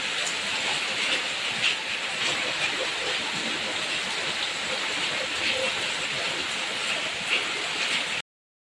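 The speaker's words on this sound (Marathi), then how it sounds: "ताशा वाजतोय, थेंब पडतात ना याच्यावरती, तर ताशा वाजल्यासारखा आवाज येतोय." Monsoon raindrops pelt a metal roof sheet in rural Konkan, making a steady, dense patter with faint rhythmic taps that sound like a drum being played, loud and continuous.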